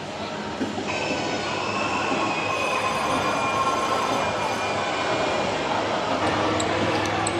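The Scarecrow Scare Raid ride runs inside Warner Bros. World Abu Dhabi, giving a continuous loud mechanical rumble with rattling and faint high squeals in a reverberant indoor hall.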